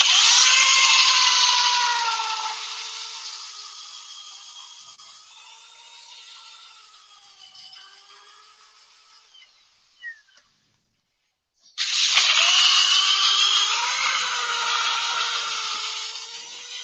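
A power drill fitted for sanding whines at reduced speed, its pitch easing down over several seconds, then it cuts out briefly and restarts at full loudness, running steadily close by.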